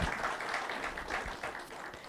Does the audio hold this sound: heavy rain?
no